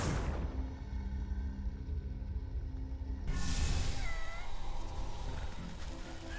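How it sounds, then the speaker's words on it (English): Cats in the game Wytchwood meow and caterwaul over a low rumbling ambient bed. Several drawn-out wavering cries come in the second half, fairly close and with nobody talking. "Oh, these cats."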